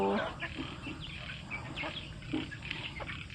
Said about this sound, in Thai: มีไก่ประมาณห้าสิบนะคะ